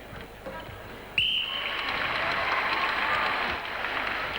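An indoor crowd cheers and applauds at a 1995 international netball test match between Australia and South Africa, a sharp referee's whistle cutting in before a sustained roar of clapping and cheering that fades slightly near the end.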